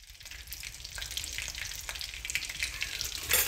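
Curry leaves crackle and sizzle in hot oil for stuffed bitter gourd fritters, a close, dense fry that grows louder over a few seconds with sharp pops near the end, with no talking.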